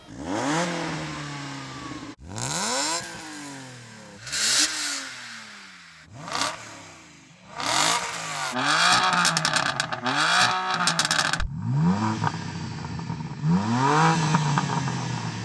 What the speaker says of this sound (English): I'm talking about the actual sounds the engines make